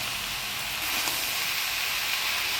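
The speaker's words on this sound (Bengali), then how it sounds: "লাউটা ভালো করে নাড়াচাড়া করে নিলাম" Raw bottle gourd sizzling in a hot pan with ginger paste, turmeric and salt while being stirred, a steady, close hiss of frying that holds at an even level throughout.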